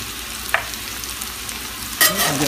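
Potatoes and onions fry in a cast iron sauteuse pan with a soft steady sizzle, then a spoon stirs them with a louder scraping rustle near the end, no voices.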